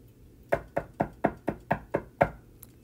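Seven sharp knocks rap on a door in a quick, even rhythm inside a game scene, close and clear with no talking over them.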